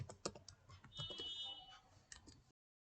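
Quiet clicking of keys as code is typed on a computer keyboard, a short uneven run of close taps with a faint tone in the background, ending in silence.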